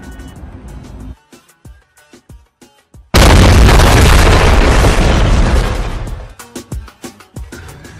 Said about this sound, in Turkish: Ne patladı acaba?